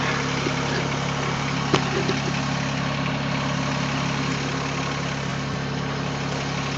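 A Mahindra eMax20s HST compact tractor idles steadily with its backhoe being raised, a constant, even engine drone with a strong low hum, close and unbroken, with one brief clunk partway through and no speech.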